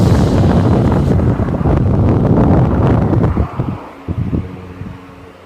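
A 12-volt high-speed motor fan running on solar power gives a loud, close, steady whooshing rush of air, then winds down and fades out after a few seconds.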